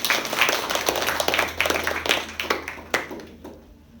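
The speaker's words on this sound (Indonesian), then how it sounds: "Tepuk tangan dong buat Fani." Audience applause at a drama performance, a burst of close, crisp clapping from a small crowd that fades out over the last second.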